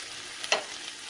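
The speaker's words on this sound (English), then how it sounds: "You see those brown charred pieces, you hear it sizzling." Chicken frying in a pan, a soft steady sizzle with a brief louder crackling burst in the middle, heard alone and fairly quiet.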